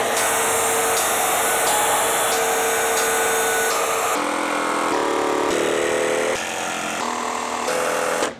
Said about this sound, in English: Here at the shop, we have a track saw, and this is gonna give us a more accurate cut